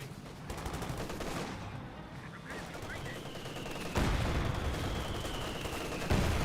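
Sustained battlefield din from Company of Heroes 2, with continuous machine-gun chatter and heavy mortar impacts thumping in, two sharper blasts standing out over the steady roar.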